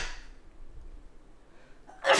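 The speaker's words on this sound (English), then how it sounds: "I'm going to sneeze" A single close, sharp sneeze bursts out at the very end, preceded by a couple of seconds of quiet, faint breathing.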